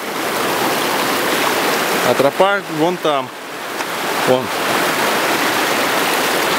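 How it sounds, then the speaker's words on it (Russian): A river rushes steadily around someone standing mid-stream on a mountain hike near Taskyl, a loud, constant broadband flow of water that carries through the whole clip while someone briefly speaks over it. "вот так вот стою посреди реки. Там река, и там."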